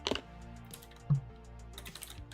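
Keys clack on a computer keyboard in a short burst at the start, followed by a thump and scattered light taps, fairly quiet and close with no talking.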